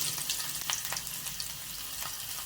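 Chopped garlic sizzles in hot oil with mustard seeds and urad dal, a soft steady crackle with faint scattered pops and light stirring, close but quiet, no talking.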